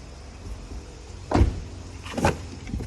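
Power tailgate of a Toyota Harrier Z moving, heard as two short motorised whirring bursts a second apart over a low, steady background hum, close by.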